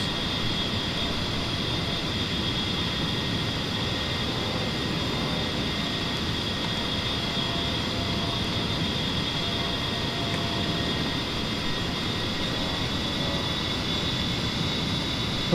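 Aircraft engine drone inside the cabin during a 2,000-foot climb-out at about 180 knots after flaps up, a constant steady roar with a faint high whine, unbroken and with no talking.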